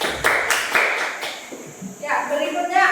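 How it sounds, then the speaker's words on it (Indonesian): A classroom audience gives a short round of applause for a student group, a few sharp claps up front before voices take over. "Kita tepuk tangan dulu"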